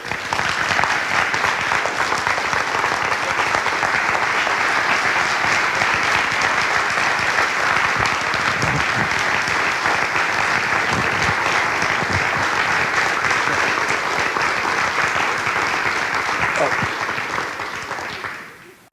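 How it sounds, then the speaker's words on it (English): Sustained audience applause at a Common Core town hall meeting in Marietta, Ohio, loud and steady for most of the stretch before tapering off at the end. "applause for them."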